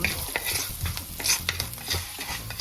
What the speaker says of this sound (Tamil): அடுத்தது உளுத்தம்பருப்பு போடுறேன் இப்போ இதை கொஞ்சம் நாங்கள் புரிகிற அளவுக்கு வறுத்தெடுக்கும்